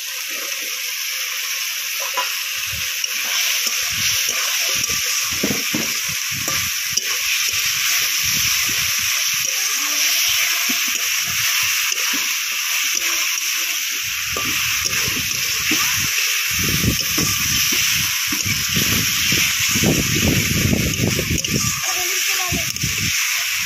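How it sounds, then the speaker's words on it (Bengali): Fried snake fish goes into a pan of sizzling spice masala, giving a steady, loud crackling hiss throughout, with bursts of heavier frying and low clatter toward the end. "মশলাগুলো কষিয়ে নিয়েছি, এবার ভেজে রাখা মাছ দিয়ে দেবো।"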